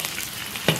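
Whole spices in hot oil in a wok: scallion, ginger, dried chilies, Sichuan peppercorns, star anise, cinnamon bark, bay leaves and black cardamom. A steady soft sizzle, briefly louder with one near scrape or stir.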